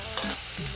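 Beans tipped into a hot pan of herbs for vegan tacos, stirred with a low steady sizzle and a couple of soft scraping pushes, close and moderately loud with no talking.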